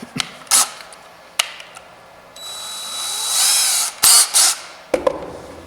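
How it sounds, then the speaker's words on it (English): A right-angle power drill whirs in short bursts during a door installation, then runs steadily with a rising whine for over a second before a few more quick bursts and clicks. "I'm going to replace this into the right angle drill so I have more room"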